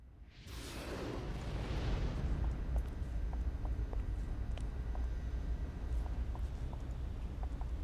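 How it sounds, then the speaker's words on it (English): Bombs explode in the video game City of Heroes: a sudden blast, then a long, dense rumbling roar that stays loud, with scattered small clicks on top. "There's bombs every freaking corner."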